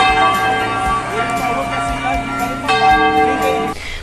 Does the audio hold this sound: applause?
no